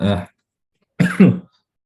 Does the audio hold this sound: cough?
yes